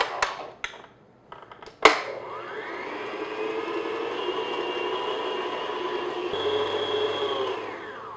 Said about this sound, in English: So now I'm just going to beat this on medium speed until everything gets mixed together.